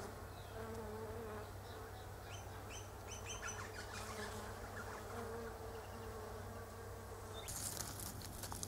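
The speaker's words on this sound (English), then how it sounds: "That was a bee in the Lonicera fragrantissima, also known as Woodbine Honeysuckle." A bee buzzing among Lonicera fragrantissima, woodbine honeysuckle, in a spring garden, a faint steady hum with birds chirping softly in the background and a brief rustle near the end.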